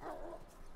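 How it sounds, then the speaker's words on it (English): A single dog bark in The Last of Us Remastered, a short, fairly close bark standing alone with no talk over it. "there's a dog."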